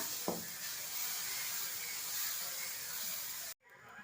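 A tempering of mustard seeds, chana dal and curry leaves hisses in hot oil for tomato dosa batter. The soft, steady sizzle holds evenly, then cuts off abruptly just before the end.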